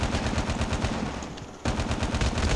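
PDW-57 submachine gun firing in Call of Duty Mobile, two rapid sustained automatic bursts of fast repeating shots, loud and close, separated by a short pause.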